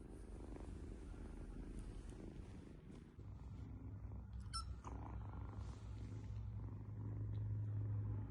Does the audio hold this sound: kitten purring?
yes